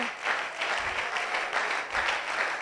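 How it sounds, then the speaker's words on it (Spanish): A church congregation claps during a sermon, a steady, moderately loud patter of many hands that swells and eases in waves. "Gloria a Dios, porque ustedes aplauden, ¿verdad?"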